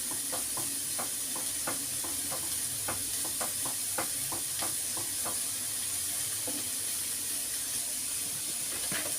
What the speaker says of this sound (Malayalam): ബീൻസ് ഒന്ന് വഴന്നോട്ടെ. ഇപ്പോഴേക്കും നമുക്കിതൊന്ന് ഇളക്കി കൊടുക്കാം.